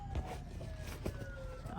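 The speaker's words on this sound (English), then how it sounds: "there's sirens going past my house" A siren wails faintly in the distance, its tone sliding slowly downward as it passes, with low background rumble throughout.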